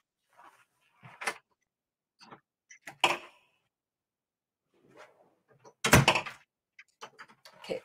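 Sparse knocks and thuds hit a door at irregular intervals, one heavy cluster of bangs louder than the rest, with quiet gaps between and no talk.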